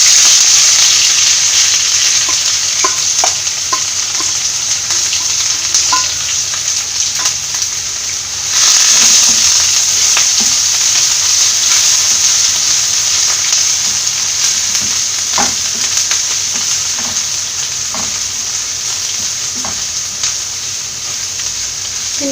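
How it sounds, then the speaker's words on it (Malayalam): Crushed garlic, shallots and curry leaves frying in hot oil with popping mustard seeds for a Kerala-style jackfruit seed stir fry: loud continuous sizzling with scattered crackles and pops, no talk. "കടുക് പൊട്ടി വരുമ്പോൾ ചതച്ച് വെച്ചിരിക്കുന്ന വെളുത്തുള്ളിയും ചെറിയുള്ളിയും കറിവേപ്പിലയും കൂടെ ചേർത്ത് കൊടുക്കാം."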